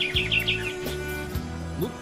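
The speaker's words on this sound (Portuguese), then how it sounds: "Lá está o passarinho, dá pra ver" A small bird chirps several quick high tweets in a short run near the start, heard outdoors over a low steady rumble of engine or background noise.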